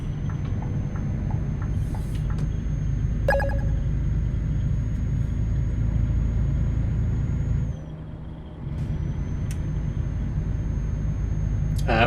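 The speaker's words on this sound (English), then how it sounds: "Oh, never mind. There's a car coming." A vehicle approaching in a trucking video game: a steady low engine rumble with a brief hiss partway through, the drone dipping for a moment near the end before resuming.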